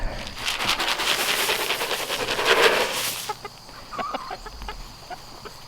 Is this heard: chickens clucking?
yes